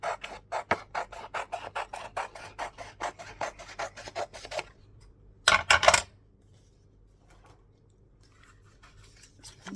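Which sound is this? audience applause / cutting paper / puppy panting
cutting paper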